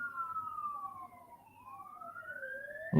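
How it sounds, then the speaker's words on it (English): Two emergency vehicle sirens wail outside at once, their pitches sweeping down and up against each other, heard from a distance through walls, ending in a brief louder knock nearby. "Oh, 2 sirens."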